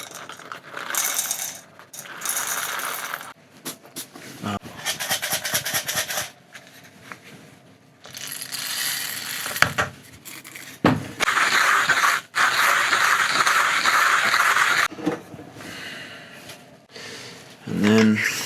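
A coffee grinder purges new beans while the grind size is adjusted, giving bursts of rattling, crunching grinding and clicking mechanism sounds, separated by short pauses, with talking heard in between.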